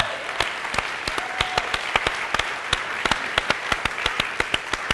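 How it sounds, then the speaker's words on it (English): An audience applauds during a live interview event, the claps loud and distinct, coming in a quick irregular rhythm with no voices over them. "Can I get a round of applause for that?"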